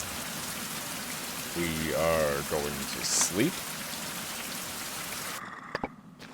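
Steady rain hisses across an island in a survival video game, a dense, even patter that runs the whole time while someone speaks briefly over it.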